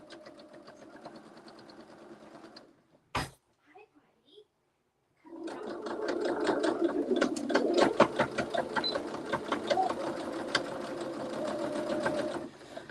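A sewing machine runs a short burst, pauses, then stitches steadily for several seconds while sewing a back stitch, close by, with a brief click in the gap.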